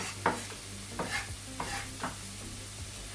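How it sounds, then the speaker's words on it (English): A spoon scrapes and stirs onion and garlic in a frying pan in a few close, rhythmic strokes, over a soft, steady sizzle, with no talking. "So I'm gonna combine the onion and the garlic together."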